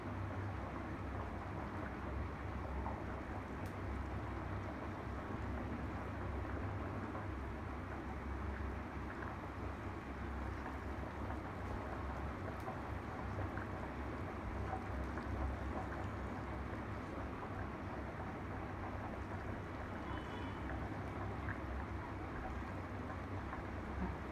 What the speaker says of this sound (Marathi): चांगल्या 3 उकळ्या जास्त खळखळ येऊ द्यायच्या.